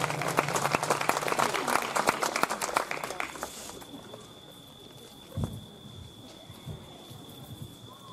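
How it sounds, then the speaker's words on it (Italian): Audience applause greets the mayor of Sternatia at an evening outdoor inauguration event, a dense burst of clapping for about four seconds that thins out into scattered claps and faint crowd noise. "Facciamo un applauso al vostro e anche un pochino al nostro primo cittadino questa sera."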